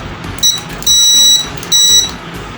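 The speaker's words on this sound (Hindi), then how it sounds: "ये है इसका बजर" Buzzer on a drone's remote controller beeping in three bright electronic tones: a short blip, then two longer sustained beeps, close and clear over a quiet room.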